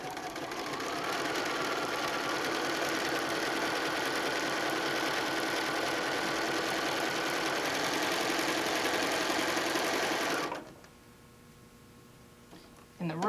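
A domestic sewing machine runs steadily for about ten seconds, stitching fabric strips together with a quarter-inch seam for an ombre quilt, a continuous close mechanical whir that stops abruptly, leaving near silence.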